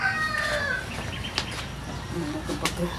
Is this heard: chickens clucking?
yes